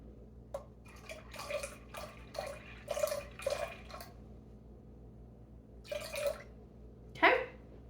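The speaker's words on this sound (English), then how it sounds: "we're gonna add in 7 ounces of orange juice" Orange juice, about seven ounces, is poured in short splashy bursts, a series of quiet glugs and drips separated by pauses and ending with one sharper splash.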